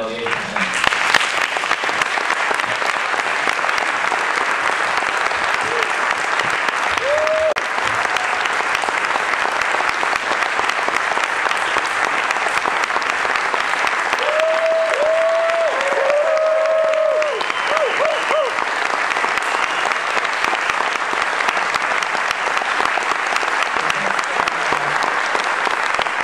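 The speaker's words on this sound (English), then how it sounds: "let's get the speakers up here for our final round of applause and that'll be it." An audience at an Ignite event applauds the speakers in a loud, sustained round of clapping that fills the whole stretch, with a few cheers and whistles mixed in.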